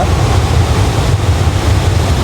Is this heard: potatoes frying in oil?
no